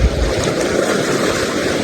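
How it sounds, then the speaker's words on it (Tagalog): Sea waves washing near a boat at Burias, a steady, loud rush of water and wind noise with no voices. "Pero nakakatakot talaga yung alon."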